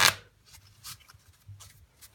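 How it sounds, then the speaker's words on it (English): Playing cards riffle shuffled by hand, a sharp burst of riffling up close at the start, then softer light flutters and card contact sounds trailing off, with no talking. "And riffle shuffle is great because even if you're not card controlling,"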